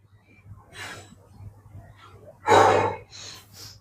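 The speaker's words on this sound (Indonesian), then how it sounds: "Dia nafas 10 kali." Heavy, audible breaths follow a chest, shoulder and triceps gym set, with a loud gasping exhale near the end and quieter breaths around it, close to the microphone.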